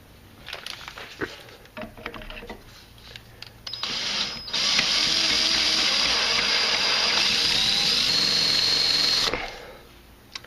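A drill with a 31/64 bit bores a centre dimple into metal for a homemade camshaft sprocket spanner wrench, running in one steady, loud whining grind of about five seconds after some clicks and handling.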